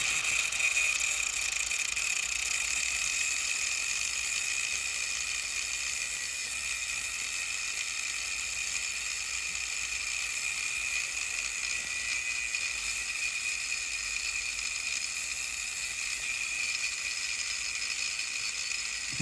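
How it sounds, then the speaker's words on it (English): An angle grinder cuts the handle off a piece of scrap metal, a steady high-pitched whine and grinding hiss that holds evenly and loud throughout, with no talking. "Pulling out the angle grinder just to cut the handle off here."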